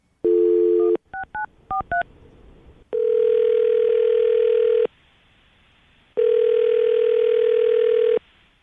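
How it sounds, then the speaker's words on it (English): A phone line: a short dial tone, a quick run of keypad beeps, then two long ringing tones separated by silence. "Jackie, you ready to call him? Ready. Here we go."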